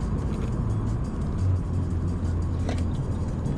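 Subaru XV car driving along winding roads, steady low engine and road rumble from inside the cabin at even loudness, with a faint tonal hum drifting as speed shifts, no talking.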